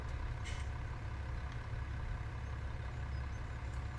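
A tractor engine idles in the Farming Simulator 17 video game on the Thornbrook map, a low, steady diesel rumble running evenly throughout with a few faint clicks and no talk.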